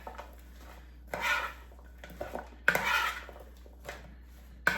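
Salad leaves tossed with balsamic vinegar and olive oil in a bowl, giving a few separate scraping, clattering bursts of utensils against the dish with quiet pauses between them.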